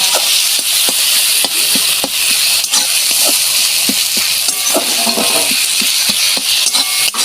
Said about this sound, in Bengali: এইবার আমি একটু কষে নিই